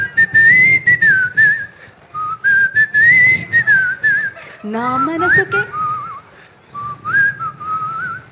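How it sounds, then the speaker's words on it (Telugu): A person whistles a song melody on stage at a film success celebration, the tune rising and falling in phrases with short breaks, with crowd noise and a voice briefly speaking between phrases. "విజిల్తో పాడతారా? విజిల్తో పాడాలి."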